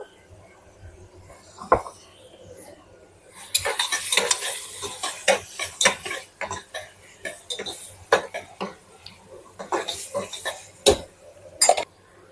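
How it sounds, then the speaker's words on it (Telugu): Ginger garlic paste hits hot oil for a chicken curry: after a quiet start and one knock, a loud hiss bursts out and is worked with busy spatula scraping and clanking against the pan, close and continuous, no speech. "ఇప్పుడు ఆయిల్ వేస్తున్నాను, కొంచెం ఎక్కువ తినరు. పెట్టుకున్న అల్లం వెల్లుల్లిపాయ పేస్ట్"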